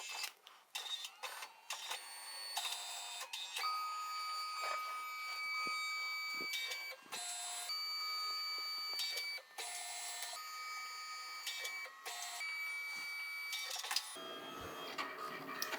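A photo printer runs hand-drawn stickers onto 4x6 paper, giving a quiet, close stream of mechanical whirring, feed clicks and tonal motor whines that start and stop in short bursts.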